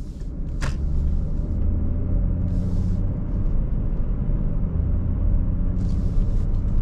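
A Porsche Panamera 4 being driven, heard from inside the cabin as a steady low road and engine rumble with light tire noise and a few brief higher whooshes.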